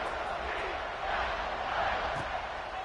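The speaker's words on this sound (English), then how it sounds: "this crowd is buzzing after that last score" A stadium crowd in the video game NCAA College Football 26 buzzes after a score, a steady, fairly quiet roar of cheering that swells slightly midway.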